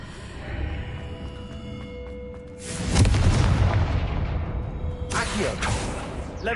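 In Hogwarts Legacy, the Confringo blasting curse goes off as a deep, booming explosion that swells and rumbles, followed by a second sharp blast a couple of seconds later over faint background game ambience.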